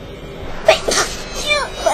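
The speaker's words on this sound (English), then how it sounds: "Bless you." A character in the video game Alice: Madness Returns gives a short, soft sneeze, a quick breathy burst followed by faint squeaky after-sounds over quiet game background.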